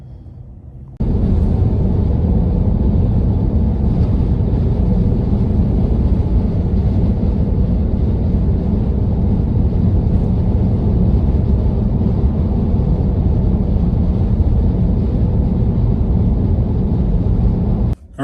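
A Tesla electric car cruises along the road on a commute, giving a steady, loud broadband rush of road and wind noise with no breaks, heard from inside the cabin.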